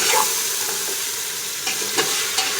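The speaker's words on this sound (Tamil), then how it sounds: "எல்லாத்தையும் சேர்த்து நல்லா வதக்கிக்கோங்க" Mutton with masala and chili powder sautéed in a pan, giving a continuous loud sizzle broken by a few scraping stirs of a spoon, close by and with no talk.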